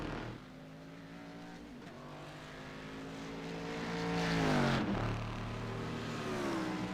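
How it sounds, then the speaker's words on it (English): A number 12 BMW and a Corvette, GT sports cars, roar through a chicane in steady high-revving engine drone with shifting pitch as they brake and accelerate, swelling louder near the middle; a commentator talks over it. "Rogers is getting chased by Joseph Penn in the number 12 BMW through the chicane"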